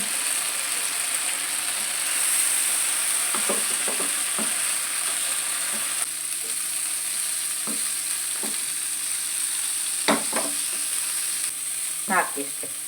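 Prawns fry in butter in a pan with a soft, steady sizzle, punctuated by a few scattered scraping clicks as they are stirred; quiet and close throughout.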